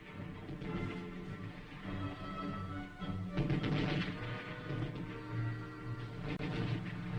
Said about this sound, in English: Due to machine gun and mortar fire from infiltrated enemy troops, the convoy halts.